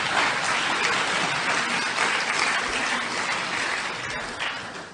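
Audience at a political lecture applauding, a thick continuous roar of clapping, loud and even throughout, tapering only slightly at the end.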